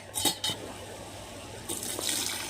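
Water splashes and streams in short bursts into a cooking pot of mutton curry, with a brief pause before a steadier pour; close and moderately loud.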